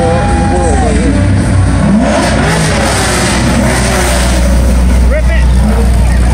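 An award-winning show car's engine revs hard and loud up close at an outdoor car show, roaring and rising in pitch, with people talking and shouting over it.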